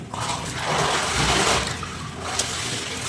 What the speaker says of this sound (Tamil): ரைஸ் ஆட் பண்ணிடலாம் தான் போட்டுருவோம் ரைஸை.